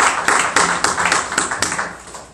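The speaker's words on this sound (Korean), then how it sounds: "하나님께 영광의 박수를 드리도록 하겠습니다." A church congregation claps together in praise during a Sunday worship service, a dense run of sharp, fairly regular claps lasting a couple of seconds, close and moderately loud.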